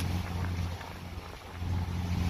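A traditionally built wooden boat, the MV Laser, under way from Grenada to Carriacou gives a steady, loud engine rumble mixed with wind and water noise.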